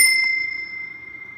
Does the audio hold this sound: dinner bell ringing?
yes